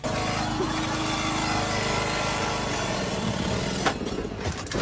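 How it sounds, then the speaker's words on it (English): A smoking lawn mower engine runs loud and steady, holding a rough, droning motor sound for several seconds before a brief knock near the end. "We're not experts in lawnmowers, but we're pretty sure they shouldn't be smoking like that."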